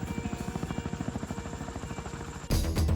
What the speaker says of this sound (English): The Chinook is undoubtedly the greatest transport helicopter ever